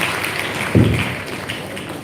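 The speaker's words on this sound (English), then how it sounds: "a big round of applause for all the wonderful students" An audience at a Wisdom High Group of Schools event claps for the students, a brief, steady patter of many hands with one sharper thump, continuing at moderate loudness.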